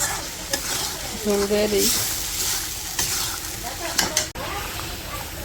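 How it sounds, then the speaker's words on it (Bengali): Meat sizzles and hisses steadily in a pan as it is sautéed for a home-cooked curry, with occasional stirring scrapes and someone speaking briefly over it. "মাংসটা তো ভালো করে কষিয়ে নিচ্ছি।"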